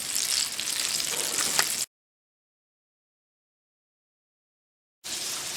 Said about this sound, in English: So we're going to let these fry, and while these fry and dry a little bit